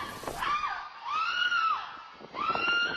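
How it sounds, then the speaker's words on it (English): A mother walking with a stroller screams while being attacked and robbed on a city street, three long anguished shrieks rising and falling, loud and close with brief gaps between them. "The scream of a mother walking with a stroller to pick up her daughter from daycare as she was attacked and robbed"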